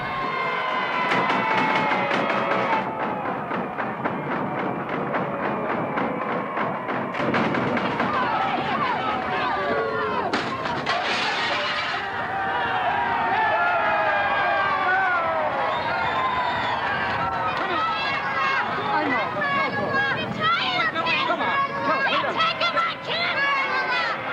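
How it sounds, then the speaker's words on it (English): A large, agitated crowd chases Kennedy to the doors of a federal building in archival protest footage, a loud continuous babble of shouting and jeering voices with yells rising over the din throughout. "The crowd pursued Kennedy to the doors of the federal building."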